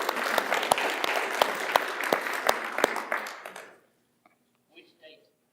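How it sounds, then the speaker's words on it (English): A room of conference attendees applauds steadily for about three seconds, dense clapping with sharp individual claps standing out, then the clapping fades into near silence with a few stray sounds. "I think a round of applause for Phil,"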